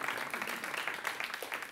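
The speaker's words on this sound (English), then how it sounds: "round of applause" An audience at a School Duel 2019 quiz game between John Ferguson and School for Advanced Studies breaks into steady applause, a dense wash of many hands clapping at an even level throughout, with no talk over it.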